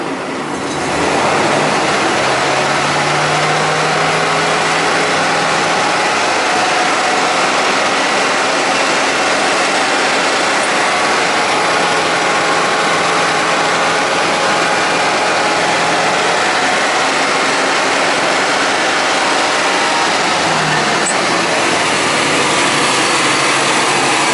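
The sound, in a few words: engine running with throttle pulled up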